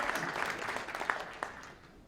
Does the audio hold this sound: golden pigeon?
no